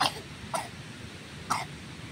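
Three short, breathy coughs come at uneven intervals against a quiet background, each a sharp burst fading quickly.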